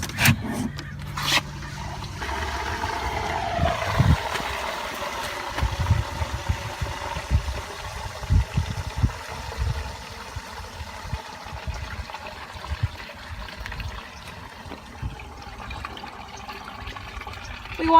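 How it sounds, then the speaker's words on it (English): Liquid waste rushing from an RV black waste tank through a sewer hose, a continuous gurgling, sloshing flow with low rumbling pulses that gradually eases over time, close and moderately loud, no talking. "once the black waste tank is done draining"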